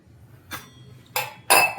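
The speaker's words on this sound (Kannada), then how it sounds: "ಈ ರೀತಿ ಎಲ್ಲ ಪಾತ್ರೆ ಇದು ಮಾಡ್ಕೊಂಡು ಇಟ್ಬಿಡ್ತೀವಿ." Washed metal pots and dishes are set down and stacked in a home kitchen, three separate clanking knocks rising in loudness against a quiet background, with no talk.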